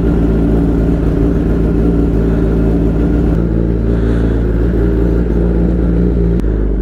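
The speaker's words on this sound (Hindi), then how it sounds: "बस ग्लव्स पहन ले और बाइक को निकालते हैं, वार्म अप करना पड़ेगा भाई" Motorcycle engine warming up on a cold morning in Durgapur, a loud, steady close idle rumble with a throbbing low drone and slight rises in revs, running continuously with no talk.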